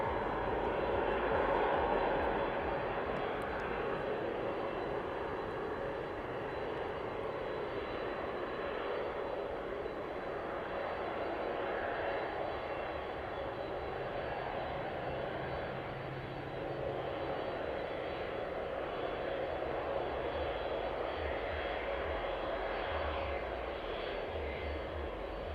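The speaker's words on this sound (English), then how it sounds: "Aeropark on final approach as well now." Airplane on final approach at East Midlands Airport, a steady broad engine roar that stays fairly constant and moderately distant throughout.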